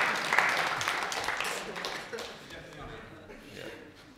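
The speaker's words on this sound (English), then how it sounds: "round of applause," An audience at a music industry workshop for covers bands at Bath Spa University gives a brief round of applause, fairly faint and fading out over a few seconds.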